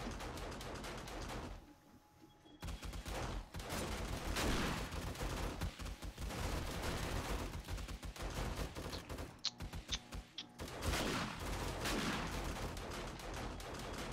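Machine gun turrets in a video game fire at an attacking horde, dense rapid bursts of gunfire that continue almost without a break, with a couple of short lulls.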